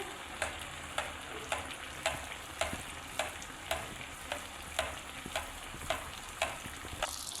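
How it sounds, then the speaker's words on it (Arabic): Bourek pastries frying in hot oil give a steady close sizzle, with regular soft taps and stirring clicks roughly every half second. "بعد ما سخن الزيت مليح البنات نحطوا الكعبه تاعنا"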